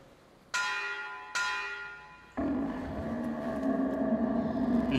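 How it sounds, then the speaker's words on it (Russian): Two loud metallic bell strikes in the Metro Exodus video game, each ringing out and decaying, followed by a sustained rumbling, shimmering resonance that builds slightly toward the end. "Колокол."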